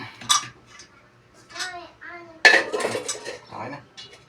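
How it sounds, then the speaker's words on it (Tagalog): A frying pan is set on a kitchen stove, giving a couple of short metallic clanks and clinks between stretches of close talking. "Ilagay ang kawali."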